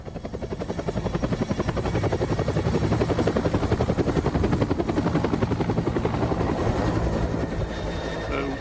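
A helicopter's rotor thumps steadily and loudly throughout, a close, continuous chopping drone with engine whine that eases slightly near the end, in Antarctica.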